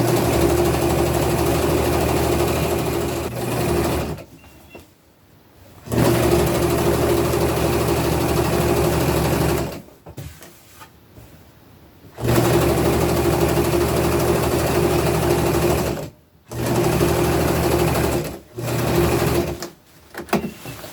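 A sewing machine stitches layers of fabric for an upcycled princess dress in several steady runs of whirring, with short quiet pauses between them, loud and close.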